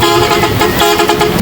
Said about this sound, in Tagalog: Habang nagbibideo ako, may bumusina nga pala sa aming truck.